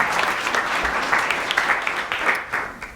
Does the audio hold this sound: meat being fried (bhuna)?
no